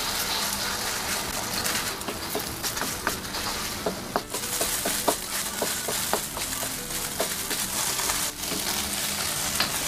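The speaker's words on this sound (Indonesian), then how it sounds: "Kemudian goreng telur." Egg scrambled and fried in hot oil in a pan while cooking mustard greens: a constant close crackling sizzle with scattered sharp pops and light scraping taps of stirring, no talking.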